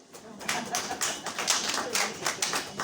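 Audience clapping at a talk on women in Ghana's local governance, a scattered burst of individual claps with distinct sharp hits, fairly faint and a little uneven in rhythm, with no talking over it.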